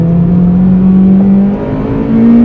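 A Honda Integra DC5's K20 engine revs steadily, close and loud, its tone rising gradually with a brief dip near the end, and no talking.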